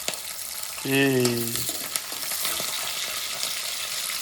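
Green chillies and onion frying in oil for avalakki uppittu, a constant close sizzle with a few stirring clicks; a voice briefly speaks over it.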